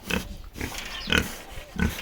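Pigs in a farm pen: several short, loud grunts and snorts come in irregular bursts close by, with a brief breathy squeal among them.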